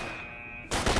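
Pistol shots in the video game S.T.A.L.K.E.R.: Shadow of Chernobyl, a steady hum suddenly cut by loud, harsh gunfire blasts in quick succession.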